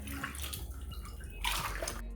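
Water runs and splashes into a bucket, a steady rushing wash that grows stronger partway through, fairly close with some background rumble and no talking.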